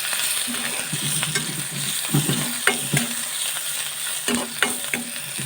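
Onions and chilies sizzle softly in a pan as a cooking pasta dish is stirred, with intermittent scraping taps of the utensil against the pan over a steady frying hiss.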